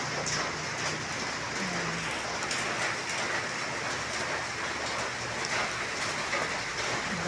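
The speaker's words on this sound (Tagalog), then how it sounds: "Lakas lang ang ulan." Heavy rain pours steadily in a dense, even hiss with drops drumming on surfaces, continuous and close throughout, with a single short spoken word briefly heard.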